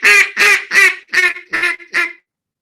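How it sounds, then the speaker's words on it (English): A duck call blown in a five-note hail greeting, loud close quacks spaced evenly and stepping from high to low, with no one talking over them. "You can make that into a hail call, which is the greeting call for ducks."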